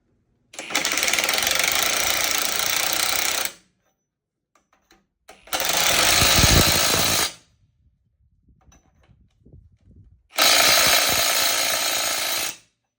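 A powered socket wrench drives bolts on a New Holland 250TL tractor loader cylinder during repair, using a standard socket on metric hardware. Three loud, harsh bursts of about two to three seconds each are separated by quiet gaps with faint clinks.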